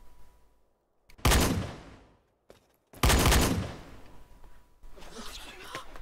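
Two sharp gunshots fire in a film shootout, each a loud crack with a long decaying echo, separated by near silence and followed by fainter rustling.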